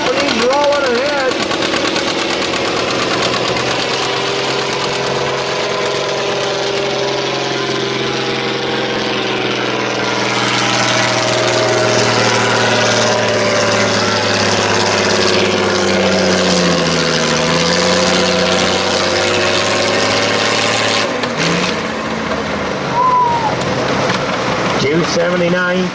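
A John Deere tractor engine roars under heavy load at a benefit tractor pull in New Vienna, Iowa, a loud sustained drone with shifting pitch as an announcer talks over it.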